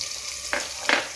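Fried rice with garlic sizzles steadily in a hot pan, with two quick stirring scrapes that briefly lift the frying hiss.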